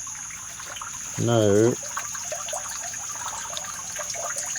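Floodwater steadily refills a backyard well in a flooded golf garden, making a continuous trickling, rushing flow with a short spoken word over it.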